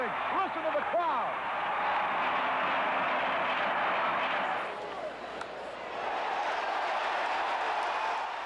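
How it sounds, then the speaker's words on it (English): Archival St. Louis radio broadcast of a Cardinals baseball game: a dense, steady crowd roar fills the stands, dipping briefly near the end before swelling again, with faint voices mixed into the wash of noise. "Listen to the crowd."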